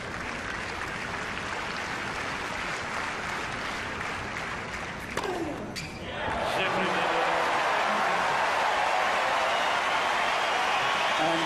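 Stadium crowd at a 2005 Montreal semifinal tennis match between Agassi and Rusedski, murmuring before a brief thud, then swelling into sustained loud cheering and applause after an ace clinches the opening set 6-4.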